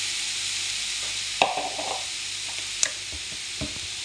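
Ground meat frying with onion and garlic for Filipino spaghetti, a loud steady sizzle over the whole stretch with a few sharp spatula knocks against the pan.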